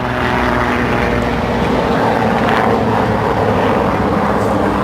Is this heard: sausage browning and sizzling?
no